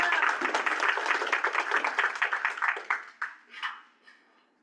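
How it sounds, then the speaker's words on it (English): A small group claps for a presenter at an online TikTok-growth session. Brisk, fairly close clapping with a cheer runs for about three seconds, then thins into a few scattered final claps and fades out. "Give her a round of applause."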